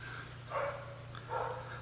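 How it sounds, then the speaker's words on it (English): Dogs bark in the background in a home workshop, two muffled, moderately distant bursts of barking against a steady low electrical hum. "Apologize about the dogs, guys."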